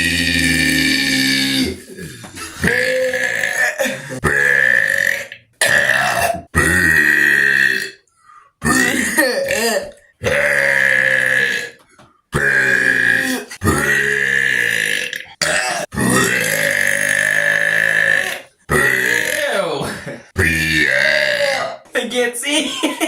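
Loud, drawn-out burps follow one another almost continuously, close and forceful, with short gaps between them.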